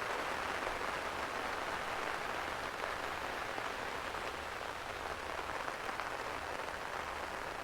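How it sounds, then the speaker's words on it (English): Steady rain falling in an Irish no-dig vegetable garden, a constant broadband hiss of drops on leaves and soil, even and unbroken throughout, close and fairly loud with no speech. "Can you believe this rain?"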